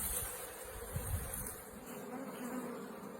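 Honey bees hum steadily around an open hive during an inspection, a dense, continuous buzz filling the air at close range with no voices.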